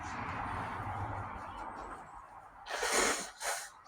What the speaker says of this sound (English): I had to blow my nose in front of you.